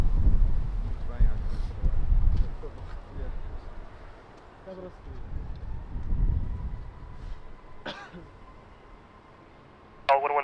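Strong crosswind buffets the microphone at Lisbon Airport in low rumbling gusts that rise and fall, with brief sharper bursts near the end.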